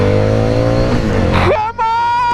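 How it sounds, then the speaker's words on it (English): A Street 500 motorcycle on its stock exhaust revs hard and loud, the engine tone climbing through a gear change with a brief dip before pulling higher again. "That sound that it makes with the stock exhaust, I'm not gonna like."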